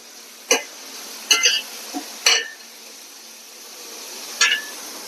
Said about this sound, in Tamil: அதில் இந்த வெங்காயத்தாள், ஸ்ப்ரிங் ஆனியனோட ஸ்டெம்ஸை போட்டு வதக்கிக்கிறேன்